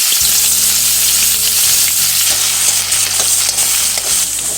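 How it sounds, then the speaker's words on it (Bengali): Chopped onions and black cumin seeds sputter in hot oil while cooking for a bhola fish curry with mustard paste, giving a loud, close, continuous sizzle with low music faintly behind it. "এবার আরও একটু তেল দিয়ে দেব, কালো জিরে ফোড়ন দিয়ে দেব, আর দিয়ে দেব পেঁয়াজ কুচি"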